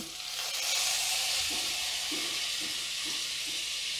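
Butter sizzles and hisses steadily in a hot kadai, a bright constant frying crackle with soft popping bubbles underneath, close and alone without talk.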